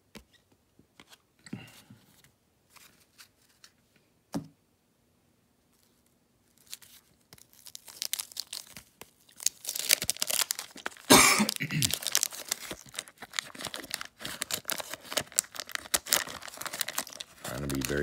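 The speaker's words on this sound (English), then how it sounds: "Trying to be very careful when I open these because, again, they are just very delicate." Crinkly wrapper crumpling and tearing while 1989 Donruss baseball card packs are opened, sparse and quiet at first, then a sustained, louder rustle close to the mic.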